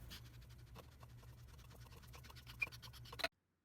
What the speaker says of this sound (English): So how you would detach it is you just unscrew it like this.